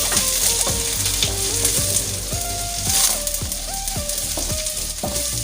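Bird's eye chilies and red chilies dropped into hot oil with shallots for a mackerel stir-fry, frying with a loud, steady sizzle while a spoon stirs and taps against the pan.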